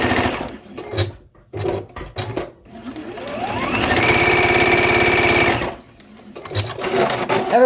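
A home sewing machine stitches quilt block pieces for an Autumn Star block: short start-stop bursts, then one long, steady, close whirring run before brief bursts resume.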